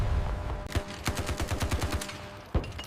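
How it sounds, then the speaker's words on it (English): Heavy machine gun fire in a combat simulation video game: one sustained burst of about a dozen evenly spaced, punchy shots, then a single louder blast near the end, over a steady battle rumble. "the heavy machine gun provides the suppression needed to keep the enemy heads down"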